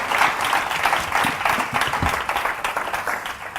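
An audience at an executive education open day applauds the speakers, a sustained burst of many hands clapping that swells and gradually thins toward the end, with no talk over it.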